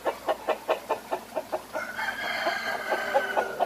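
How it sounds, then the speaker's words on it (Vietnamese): Young farm chickens raised on commercial feed cluck in a quick rhythmic series, then a rooster-like crow and mixed fowl calls follow, close and moderately loud with no talk. "Ồ, gà này đẹp quá nè."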